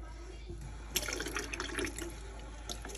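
Water splashing and trickling as a Barbie doll is rinsed in a small bath, a brief burst of close splashes and drips over a low steady background hum.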